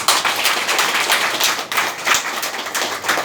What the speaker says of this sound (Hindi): हाथ उठाइए, ताली बजाइए।